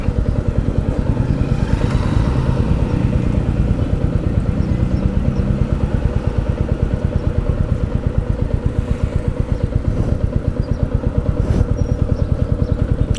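A Royal Enfield Meteor 350 rides along a winding road through a sharp U-turn, its single-cylinder engine thumping in a steady, even rhythm with constant mechanical clatter, loud and close, and no voices.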